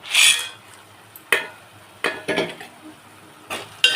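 A spoon scrapes and clinks through a pan of curry with black gram vadiyalu (lentil dumplings), several distinct stirring strokes with brief gaps, close and fairly loud.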